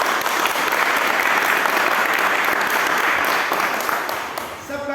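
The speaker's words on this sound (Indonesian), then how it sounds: "Oke, aplaus buat kita semua hari ini." A class in an automotive engineering lesson bursts into sustained, dense applause, loud and even throughout before tapering off near the end.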